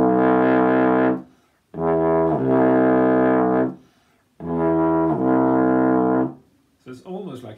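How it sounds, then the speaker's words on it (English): A trombone with an F attachment plays low notes, sounding like a bass trombone: two long, loud sustained tones, each with a pitch step partway through, separated by short gaps, then a brief fainter burst at the end. "So it's almost like having a bass trombone"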